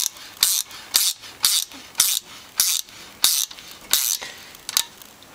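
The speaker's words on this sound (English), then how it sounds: "There's a little ratchet spinner, it's bloody beautiful." A small reversible ratchet spinner tightens a battery clamp, giving about nine loud, crisp clicking bursts in a steady rhythm, close up with no talking.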